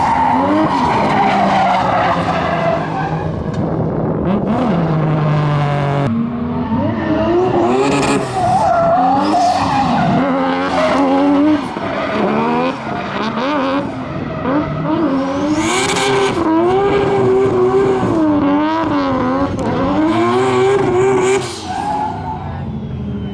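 Mazda RX-7s, an FD and an FC, drift at a test session with loud, wavering tire squeal and screeching skids over high-revving rotary engines, the squeals rising and falling in long continuous bursts close by.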